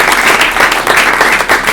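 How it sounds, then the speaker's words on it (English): A short burst of lively applause from a large library audience, many hands clapping together at close range and fairly loud, with no speech over it. "we'll give you a round of applause"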